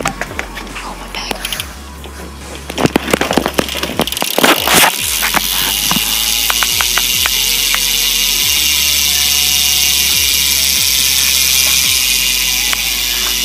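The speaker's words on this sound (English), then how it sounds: "this is what the sprocket of a WeThePeople Justice sounds like" A WeThePeople Justice BMX bike's rear hub ratchet clicks close up in a rapid, even train of ticks as the wheel spins. A few louder knocks come early, then the freewheel buzz runs on steadily.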